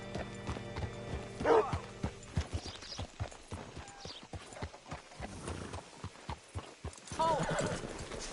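Horse hooves clip-clopping steadily in the Red Dead Redemption 2 video game, a close, rhythmic run of hoof falls with a brief whinny, while characters talk over it.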